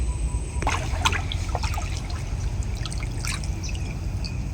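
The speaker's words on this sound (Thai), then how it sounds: "ว่ามันเสียงน้ำไหลลง" Water trickles and dribbles down beside rocks nearby in a steady flow, broken by small splashes and drips.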